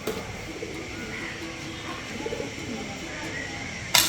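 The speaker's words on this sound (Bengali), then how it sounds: "ক্যাকটাস গাছের উপরে কবুতর পড়ে আছে" Pigeons perched on a cactus coo softly and repeatedly against a steady outdoor hum at Rabindra Kachari Bari, Shahzadpur, Sirajganj, with a brief louder rustle right at the end.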